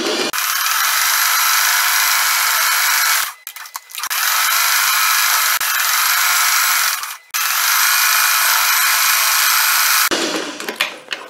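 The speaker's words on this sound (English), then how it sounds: "now I'm just going to go around with a zigzag stitch" A sewing machine runs a zigzag stitch around a crazy quilt tote bag in three loud, steady bursts of rapid mechanical whirring, separated by brief pauses, with a final softer stretch at the end.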